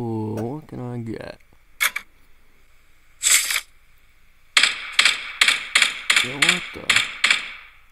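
Rapid gunfire from the battle royale video game PUBG, a string of sharp crackling shots in a regular burst near the end after a few isolated cracks, with brief speech at the start.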